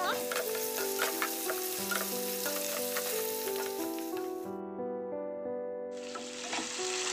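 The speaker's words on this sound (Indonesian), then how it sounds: "Aduk-aduk sebentar ya telur puyuhnya." Quail eggs being stirred as they fry in a seasoned spice mix in a pan, giving steady close sizzling with light scraping and ticking from the stirring throughout, mixed with background music.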